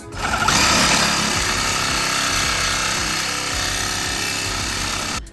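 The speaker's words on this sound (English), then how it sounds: "So back to the Sawzall." A Sawzall reciprocating saw cutting into a front-wheel-drive car body, a loud, steady buzzing rattle running continuously at close range with no pauses or voices.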